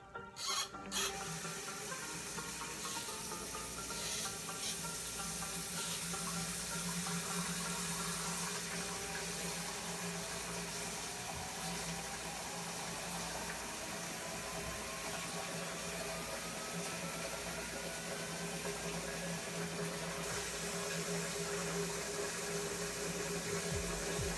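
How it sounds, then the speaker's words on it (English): Water runs steadily from a tap into a sink for a long stretch, a constant rushing flow with a faint rising pitch as it fills. "you fill the sink up with water. It can be cold water, hot water"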